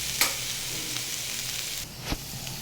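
Grated coconut frying in a pan in oil for a coconut and kochu loti bhapa dish, a steady low sizzle with a couple of sharp utensil taps, close and quiet, no speech.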